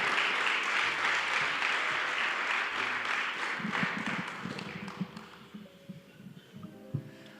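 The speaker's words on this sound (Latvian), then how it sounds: "Sagaidām māksliniekus ar aplausiem." A crowd at a volunteer-honouring ceremony claps to welcome musicians, loud at first and then thinning out, while instruments start to sound underneath as the applause fades.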